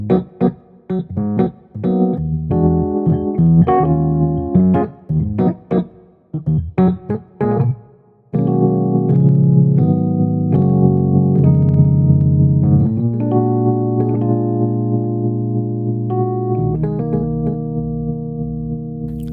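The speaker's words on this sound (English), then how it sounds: "It's just a classic suitcase Rhodes. You know, it sounds familiar with the tremolo" Classic suitcase Rhodes electric piano with stereo tremolo, played from a software instrument: a run of quick staccato chords gives way to long, wavering sustained chords that pulse gently and fade, loud and alone.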